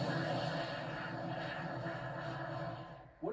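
Electra Ultra Short, a short-takeoff aircraft pitched as a flying-car rival, drones steadily in flight with a broad, continuous engine and propeller roar held close and loud, ending in a brief dip and a sudden burst.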